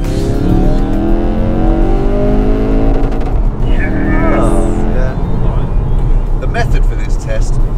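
A hot hatch engine revs hard and accelerates through a tunnel, loud and echoing, with rising engine tones that sweep upward before the roar fades into reverberant rumble and higher whines.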